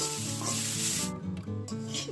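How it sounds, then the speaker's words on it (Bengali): Chopped coriander leaves lightly frying in a pan alongside garlic, onion and green chillies give a steady, close sizzle for about a second. It then drops away, leaving a soft tonal hum underneath. "এবার আমি ধনিয়া পাতাটাকেও হালকা করে ভেজে নেব।"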